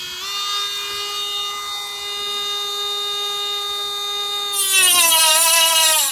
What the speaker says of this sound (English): We're going to cut a little piece of metal to show you how the tool works.